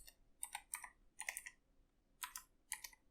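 Soft bursts of typing on a computer keyboard while writing Java code, the quick key clicks coming in short clusters with brief gaps, faint and close in a quiet room.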